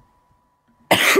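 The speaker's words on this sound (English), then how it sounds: "Whoa, that was a big cough." A single loud, close cough bursts out near the end after a stretch of near silence.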